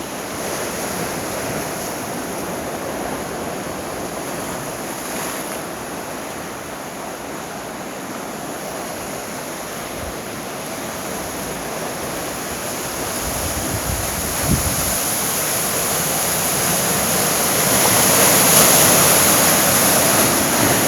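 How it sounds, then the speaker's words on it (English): Ocean waves wash against a rocky shoreline at Newport, Rhode Island, a loud, continuous roar of surf with gusty wind buffeting the microphone and swells building toward the end. "just listen to the sound of the waves and watch"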